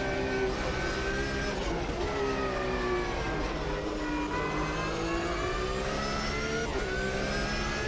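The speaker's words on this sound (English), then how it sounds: "This car sounds so sweet." A racing car engine in the racing video game Automobilista 2 roars steadily, its pitch sweeping up and down with gear changes, loud and continuous throughout.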